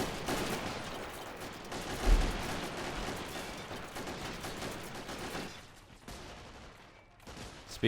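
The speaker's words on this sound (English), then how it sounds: "it's hard to hear over all the gunshots and explosions" Dense, continuous gunfire crackles with a heavier boom near the two-second mark, then the barrage thins out and briefly lulls before resuming, during a Russian infantry attack in a city siege in the video game Men of War: Assault Squad 2.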